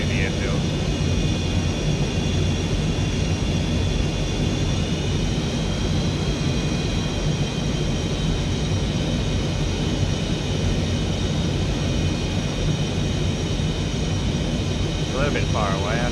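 Fixed-wing airplane in flight, slowing and banking more sharply toward the airfield, a steady continuous engine drone with a faint tonal whine, constant level throughout.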